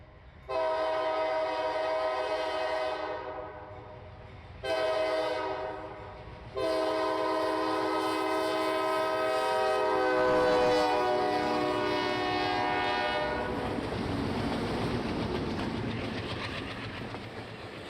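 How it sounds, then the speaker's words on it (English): A train horn blows in several long, loud blasts while the train rumbles past, followed by rushing wheel and rail noise as it goes by, on the Adirondack Railroad at Forestport. "the train glides through Forestport"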